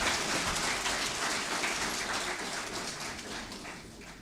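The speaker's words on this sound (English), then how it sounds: "Let us please appreciate the special guest of honor with a resounding round of applause" An audience at a Nigerian Army War College graduation ceremony gives a sustained round of applause for a guest of honor, a steady, even wash of many hands clapping that slowly fades, with no talking.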